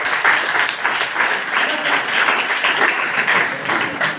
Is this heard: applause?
yes